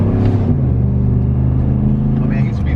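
Chevy Silverado pickup engine pulling hard to about 30 mph, a steady low rumble that holds for the whole stretch, with voices talking over it.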